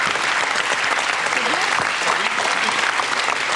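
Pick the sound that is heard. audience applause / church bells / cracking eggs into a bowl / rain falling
audience applause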